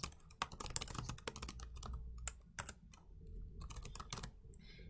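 Typing a subpage name on a computer keyboard: close, crisp clicks of keys in quick irregular runs with brief pauses, alone and fairly faint.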